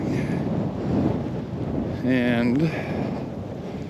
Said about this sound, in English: it's quite windy this morning